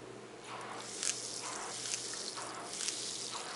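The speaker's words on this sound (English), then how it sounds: "It's just a huge cloud of bubbles, and this will aerate your tank a lot more efficiently" An aquarium air stone in a small sea-monkey tank releases a cloud of fine bubbles, a soft, steady hiss and fizz with faint rhythmic swells, heard close and alone.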